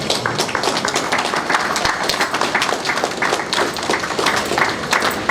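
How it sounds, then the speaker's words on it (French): A crowd at the inauguration of a university medical laboratory in Kinshasa applauds the chief's representative, a dense, sustained clatter of many hands at a steady level with no pause. "je vous prie de l'applaudir,"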